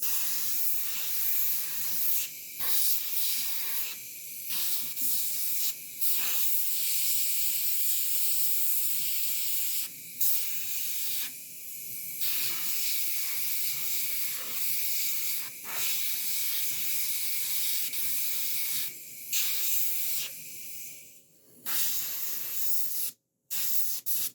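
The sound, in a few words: airbrush spraying paint on a figure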